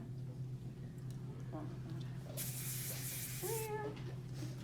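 A short burst of hairspray hisses for about a second during hair styling, amid quiet room noise and a steady low hum, with brief faint voices around it.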